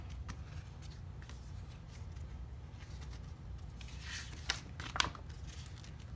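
Someone quietly handles a planner sticker and peels it from its backing. Soft crinkling and rustling sit over a low background hum, with two sharper peel or snap sounds near the end.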